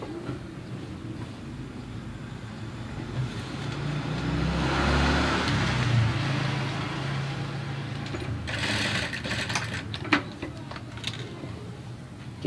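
A sewing machine runs steadily through fabric for several seconds while stitching a hidden button placket, building to a louder hum midway, followed by a few clicks and handling sounds near the end.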